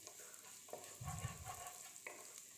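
Finely chopped garlic fried in a pan while making Maggi noodles, a soft continuous sizzle with a brief stirring scrape in the middle, quiet and close.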